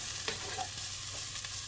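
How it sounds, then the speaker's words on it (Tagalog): Tuna and broccoli with plenty of pepper stirred in a pan over a steady low sizzle, with a few soft scrapes of the utensil, fairly quiet and with no voices. "Tapos mix lang natin."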